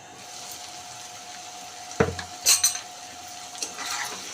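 A spoon stirs broad bean and tomato curry in a metal pot, giving a couple of close, loud clanks and scrapes against the rim amid a low steady hum.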